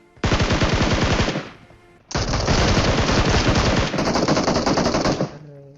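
Loud, sustained automatic gunfire in the PUBG Mobile video game, two long rapid bursts separated by a short pause, with no talk over it.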